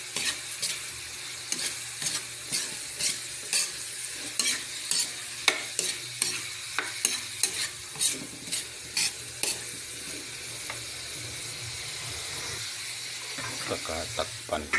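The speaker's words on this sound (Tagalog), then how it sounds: "Saka haluin." A spoon stirs gising-gising, a Bicol dish of sliced winged beans, Baguio beans and pepper, in a pan, with rhythmic scraping strokes about every half second over a soft frying sizzle that settles toward the end.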